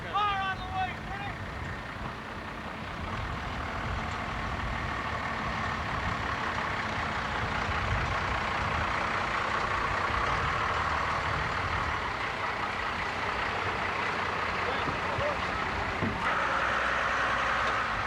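Rigs and trucks moving out, a low, steady engine rumble at middle distance with a short beeping at the start and a hiss near the end, under people talking.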